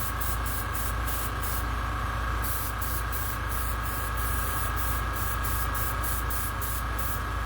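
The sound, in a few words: spray painting a latex Jason Voorhees mask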